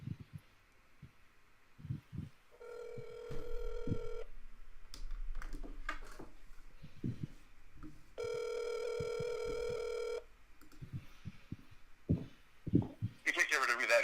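A phone call placed on speakerphone: two long stretches of steady ringback tone sound through the speaker, with short beeps and clicks between them and some background noise, and a burst of tones at the end.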